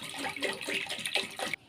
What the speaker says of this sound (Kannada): ಒಂದು ಬೌಲ್ಗೆ ಕೋಲ್ಡ್ ವಾಟರ್ ಹಾಕ್ಕೊತಾ ಇದ್ದೀನಿ.